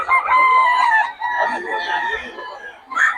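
Chickens at a farm in Bocaue, with a rooster crowing loudly and close by in a long drawn-out call, followed by a brief further squawk.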